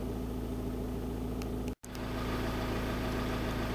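Hot Audi A3 2.0 TDI diesel (BKD engine) idling steadily, a low droning hum with a constant tone, cut by a brief moment of silence before the steady idle resumes.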